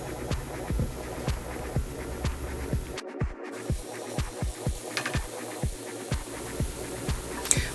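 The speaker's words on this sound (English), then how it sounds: "we're going to take some chopped shiitake mushrooms and place in a hot cast iron pan with a little bit of neutral oil in there" Chopped shiitake mushrooms sauté in a hot cast iron pan with a little neutral oil, giving a soft, low sizzle broken by frequent quick pops and crackles.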